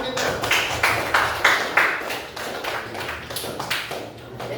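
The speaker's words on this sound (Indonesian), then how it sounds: "Tepuk tangan untuk selanjutnya" Classroom of students clapping for a presenting group, a short burst of uneven claps with soft distinct slaps, moderately near and fairly quiet, fading after a few seconds.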